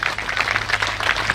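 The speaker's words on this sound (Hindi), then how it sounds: "एक बार जोरदार तालियों के साथ" An audience at a grand ceremonial entry event for a Jain monk in Jaipur, Rajasthan, claps loudly in a dense, continuous burst of applause over a low steady hum.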